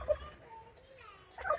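Turkeys gobble on a Wisconsin farm, a short burbling call at the start and another at the end, fairly close and moderately loud against quiet background.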